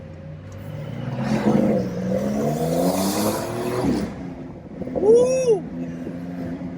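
A Porsche 911 Carrera 4S from 2020, in sport mode, revs up in a rising engine drone from inside the cabin, then settles as a person whoops.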